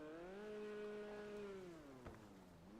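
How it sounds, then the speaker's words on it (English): A jet ski engine in a GTA roleplay video game whines steadily, its pitch rising and then easing down, faint and alone with no talk. "I just hear the motorcycle engine, but it's a jet ski engine."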